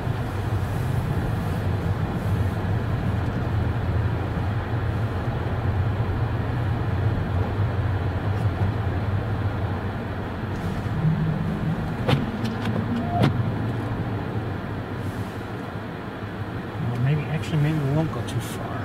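A car rolls along a road with a steady low engine and tyre rumble throughout, while someone talks inside the vehicle over the constant drone.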